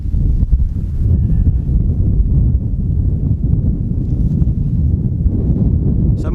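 Low, steady wind rumble buffeting the microphone outdoors at a solo wild camp, continuous and fairly loud with faint rustling, no voices.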